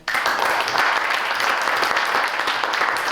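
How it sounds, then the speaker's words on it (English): An audience applauds to welcome a speaker, a dense, continuous clapping that starts abruptly and stays loud and even. "Let's give him a hand."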